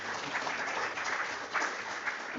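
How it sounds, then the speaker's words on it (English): An audience at an institutional quality-week event applauds a speaker, a soft, steady patter of many hands held at a fairly low level for a couple of seconds. "I think you clap for me"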